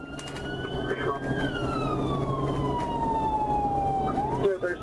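Police car siren during a pursuit, a wailing tone sweeping slowly downward and looping, close and loud over road and engine noise.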